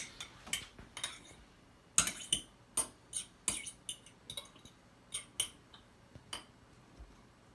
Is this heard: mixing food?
yes